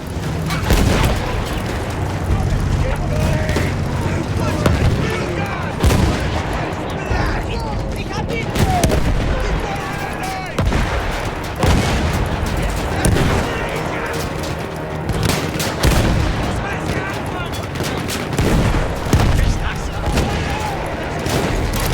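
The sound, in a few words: cannon and artillery fire in video game Battlefield 1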